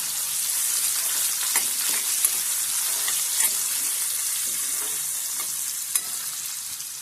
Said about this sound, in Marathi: त्याच्यानंतर घालतो आपण कांदो मस्त पैकी भाजून घ्यायची